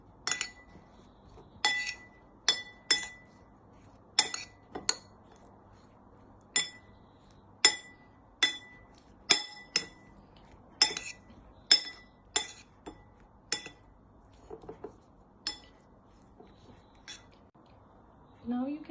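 A spoon stirs tomatoes marinated with salt, pepper, garlic and oil in a glass bowl, producing a long series of bright, close clinks at an irregular, roughly one-per-second pace over a quiet background.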